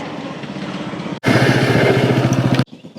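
A scooter engine running close by, a loud steady buzzing drone with a rapid pulsing beat that starts abruptly after a quieter stretch and cuts off sharply near the end.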